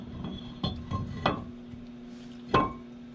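Heavy Power Stop brake rotors on a Silverado solid-axle swap clink and clank metallically onto the hub, several sharp knocks spaced unevenly over a low steady hum, close and alone.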